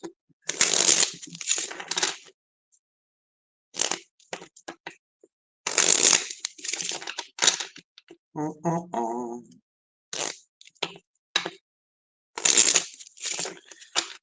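Crisp bursts of cards being shuffled, repeated several times with short pauses between, close by, with a brief murmured voice in the middle.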